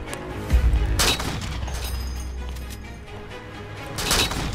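Video game gunfire rings out in sharp bursts, with a loud shot cluster near the start, another around one second and a final burst near the end, backed by a steady game background.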